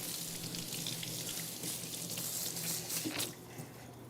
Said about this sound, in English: So just get in there and just give it a good rinse.